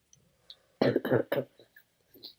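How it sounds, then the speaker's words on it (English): Three quick coughs burst out close by in a short cluster, followed by faint breathy sounds in an otherwise quiet room. "excuse me if I am coughing at all"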